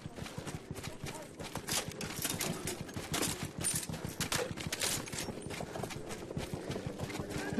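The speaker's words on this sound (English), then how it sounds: "There's an enemy horse rider." Enemy cavalry galloping in the Battlefield 1 video game, a rapid continuous drumming of horse hooves mixed with distant gunfire bursts, with voices talking over it.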